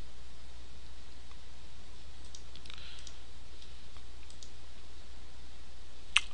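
Computer mouse clicks as QuickTime is downloaded: a few faint, sparse clicks over steady low background hum, with one sharper click near the end.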